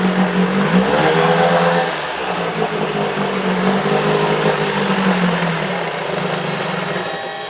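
A 1975 Johnson 25 hp outboard motor, restarted after sitting unused for over four years, runs steadily and loudly close by with a continuous buzzing drone that wavers in pitch, dipping briefly near the start.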